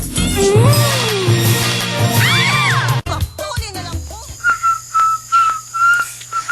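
A person whistles a wavering tune up close and loud, then gives a run of short, sharp whistled notes, each separated by brief pauses.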